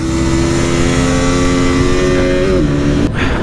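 A 2021 KTM RC 200 motorcycle on the Guwahati–Shillong road accelerates hard, its engine note climbing steadily in loud, close revving. The pitch dips briefly near the end as a gear shifts.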